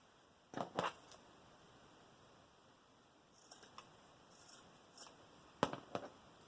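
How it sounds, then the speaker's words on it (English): Sharp scissor snips slicing fabric scarf strips, 2 inches wide and 5 inches long, for a Dollar Tree wreath; several quick close cuts in small clusters with short quiet gaps between. "Let me cut these."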